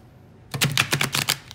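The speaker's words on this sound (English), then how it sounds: "I will do a couple riffle shuffles maybe." A 100-card Terra Oracle deck is riffle shuffled. After a moment of near silence comes a quick, close burst of crisp fluttering clicks lasting about a second.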